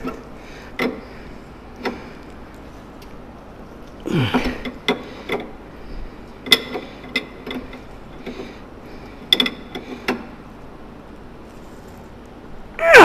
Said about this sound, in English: I backed the jam nut up to the tie rod end. And then all I'm gonna do now is tighten that up.